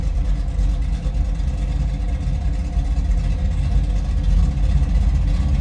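A 1972 Chevrolet Nova's 350 V8 with aluminum heads and a mild cam idles, a steady loud low rumble with a slightly lumpy, even pulse throughout.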